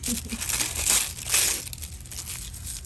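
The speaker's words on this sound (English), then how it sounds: "I think what I want to do is just shove a little bit more paper in there." Paper crinkles and crushes up close as it is pushed into a beaded starfish earring, with rustling bursts of varying loudness and no speech.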